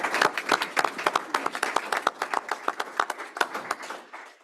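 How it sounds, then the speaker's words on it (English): A board meeting audience claps for retirees, a modest room of individual hands giving distinct, rapid, fairly close claps that taper off after a few seconds. "I would like to ask for a round of applause for all of them"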